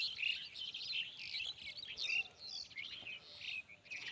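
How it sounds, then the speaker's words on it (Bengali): Small birds, including quail, chirp and tweet continuously over a rice field at harvest time, with bright, overlapping high calls at moderate distance against a quiet background. "পাখি কেস কেস করে, দেখছেন"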